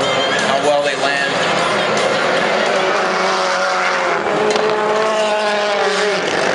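Rallycross race cars including a Ford Fiesta run on a Las Vegas track, engines droning loud and steady with rising and falling revs and a whine shifting up and down, under continuous commentary.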